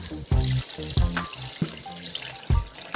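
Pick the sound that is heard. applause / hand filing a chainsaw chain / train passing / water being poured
water being poured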